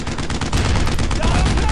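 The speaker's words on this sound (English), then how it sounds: "you're basically ordering your squad to open fire, possibly taking cover" Sustained, dense automatic gunfire from a squad laying down suppressing fire in the video game Six Days in Fallujah, loud and continuous with overlapping bursts throughout.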